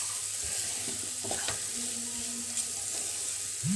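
Potatoes frying with spices in a pan: a continuous close sizzle with a few soft stirring scrapes, no voices.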